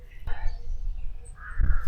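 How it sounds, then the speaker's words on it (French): Crows caw loudly inside an abandoned sock factory, two or three harsh calls, close by, with someone speaking quietly between them. "Il y a des corbeaux partout."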